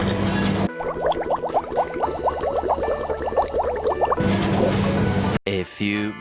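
Personal water dispenser at an Ichiran ramen booth in Tokyo pours water into a cup, a gurgling trickle of rapid bubbling drips lasting a few seconds, with someone talking before and after.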